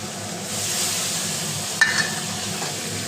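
Onion and chopped tomato stir-fry in a pan, a steady close hiss and crackle with a brief clink of a utensil partway through, no voices.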